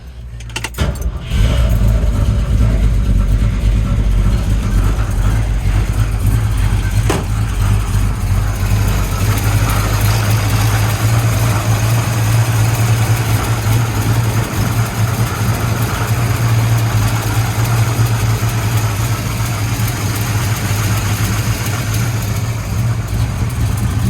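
A 1965 Ford Mustang A-Code Fastback idles steadily from inside the car, its deep, even engine rumble continuous and fairly loud after a brief clunk at the start, with a faint jingle of keys.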